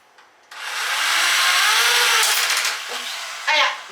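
A steady, high whirring hum of an electric drill running for several seconds, slowing briefly near the end before a final burst.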